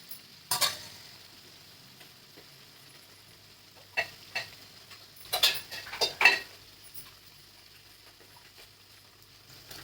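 Puris of wheat flour dough fried in hot oil, with a quiet sizzle under scattered sharp clinks and stirring taps clustered in short bursts.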